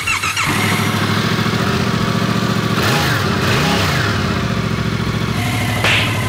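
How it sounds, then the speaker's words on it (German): A brand-new Yamaha MT-07 in Pure Black, zero kilometres, starts up and runs, its engine rumbling loud and close and climbing in pitch in a couple of brief revs before settling back down. "Dein neues Motorrad in 3, 2, 1. Yamaha MT-07 Pure Black."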